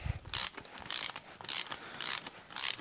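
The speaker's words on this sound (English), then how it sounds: "So I've had this ratchet a long time" A long-owned ratchet wrench clicking in five bursts of rapid pawl ticks, roughly every half second, close and fairly loud with no talking.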